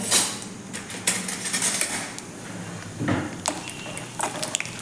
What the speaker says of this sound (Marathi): बदामाचे काप करून घेतलेले आहेत आपण ते घालून घेऊयात ते छान असे आपल्याला फ्राय करून घ्यायचे आहेत